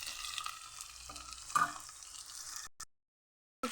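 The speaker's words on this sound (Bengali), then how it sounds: "রসুনটা দিয়ে একটু ভালো করে আমি ভেজে নিয়েছি" Garlic paste fries in a pan with a soft, steady sizzle and occasional stirring scrapes before the sound cuts out briefly and then resumes.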